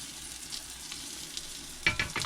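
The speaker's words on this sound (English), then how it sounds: "It's going to take a bit of frying, I think." Soft, steady sizzling of food frying in a pan, with a brief louder clatter of stirring near the end.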